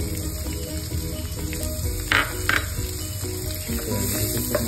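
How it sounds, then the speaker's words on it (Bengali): Chopped onion and garlic frying in a pan for a Thai dish, a close, crackling sizzle with a couple of sharper spatters and soft scraping of stirring, going on steadily with no talk. "ভালো করে একটু ফ্রাই করে নেব।"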